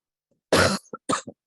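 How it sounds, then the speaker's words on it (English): A person coughs during an online software training session: one strong, harsh cough followed by a short pause and two smaller, quick coughs close to the microphone, with silence around them. "I'm going to cough"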